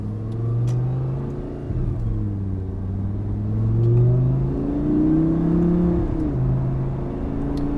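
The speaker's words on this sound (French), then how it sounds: "On entend plus ça, l'échappement, c'est marrant." A Lamborghini Gallardo LP560-4 engine and exhaust hum and rise steadily in pitch as it accelerates, then ease off and climb again, a continuous muffled rumble heard from inside the cabin.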